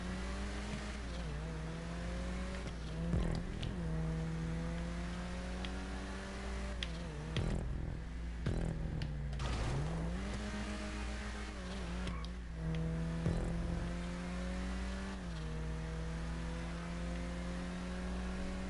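Race cars in a GTA 5 Online championship race rev and accelerate continuously, engine pitch climbing and dropping through gear shifts with occasional tire squeal, loud and steady throughout.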